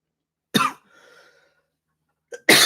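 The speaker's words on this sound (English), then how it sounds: "it's like one of those coughs that you just need to like get out and it's just stuck" A person coughs, with a sharp burst, a faint raspy wheeze trailing after, a short pause, then a small catch in the throat and another strong cough, close and loud in a quiet room.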